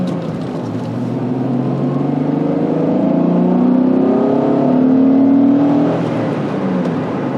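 A 1991 Acura NSX engine accelerating through the gears from inside the car, a loud, close whine that climbs steadily in pitch, drops at a shift and pulls again.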